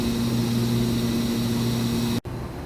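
A 2013 Mazak HCN 4000 Mark III horizontal CNC machining center spindle running at its 14,000 RPM maximum under light 3% load gives a steady, close, continuous whine with a low hum, cut off abruptly near the end.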